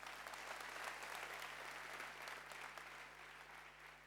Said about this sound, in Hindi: जोरदार ताली रवि के लिए